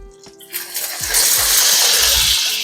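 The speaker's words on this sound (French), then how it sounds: "Et donc là, on va pouvoir ajouter l'eau." Water is poured into a hot frying pan of browned gyoza, starting with a few small clinks, then erupting into a loud, sustained hissing sizzle close by.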